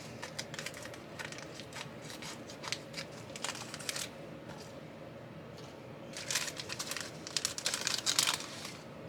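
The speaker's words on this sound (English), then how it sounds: "Cut this open." Crinkling plastic and sharp snipping as scissors cut open plastic packaging, in irregular bursts with pauses, close and fairly quiet.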